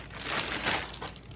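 A plastic bag holding clay crinkles as it is handled and opened, a brief close rustle alone with no talk.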